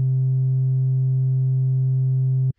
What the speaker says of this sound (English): so now we're just getting a basic sine wave